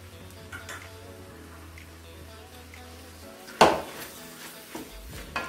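Bilimbi pickle with jaggery sizzles in a pan as it is sautéed, with a low sizzle, a sudden loud scrape of the spoon and lighter stirring knocks.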